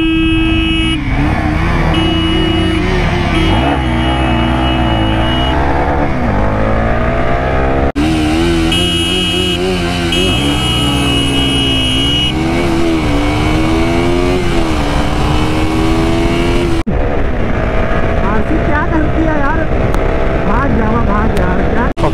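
A KTM RC 200 motorcycle accelerates in a drag race against a Jawa 42 Bobber, its engine note rising through repeated gear changes, loud and continuous, with talk over it.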